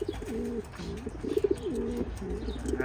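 A racing pigeon at the loft after a long race coos in repeated soft, throaty phrases, close and clear over a low steady background hum.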